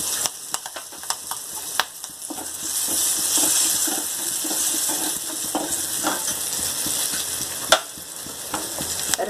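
Ground spice powder and green chillies being sautéed in a pan for Navratri sundal, with a close, moderate sizzle, scattered clicks of stirring and a few sharper taps, and no voices.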